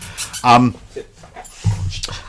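Dogs scuffle and wrestle with each other outdoors at a road racing event, giving short whimpers and yips between bursts of nearby talk.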